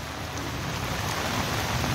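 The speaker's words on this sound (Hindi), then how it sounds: "देखिए जोरदार बारिश हो रही है।" Heavy monsoon rain pours over the streets of Sujangarh, a loud, dense, unbroken roar of rainfall on surfaces holding an even level throughout, with no voices.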